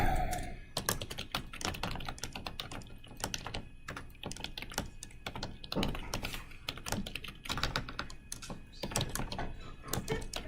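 Close, steady keyboard typing as a program is entered on a computer keyboard, many quick irregular keystrokes clacking continuously with no talk.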